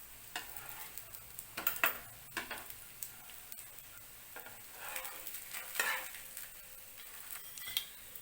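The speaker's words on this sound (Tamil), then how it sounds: "எண்ணெய் மட்டும் கொஞ்சம் ஊற்றி தான் சுடணும்" Paruppu poli flatbread fries in a little oil on a hot pan, with a soft steady sizzle broken by several sharper scraping and spatula clinks close by.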